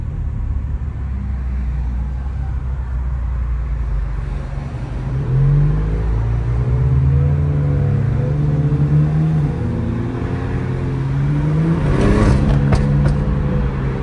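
A BMW M340i engine revs while the car accelerates on a windy day, a loud, close, in-cabin drone rising in pitch through the gears with steady wind and road rumble underneath and no talking.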